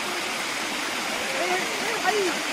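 Water pours steadily at Rahas Waterfall, a picnic spot in Soro, Baleswar, giving a constant rushing wash. Someone speaks faintly over it.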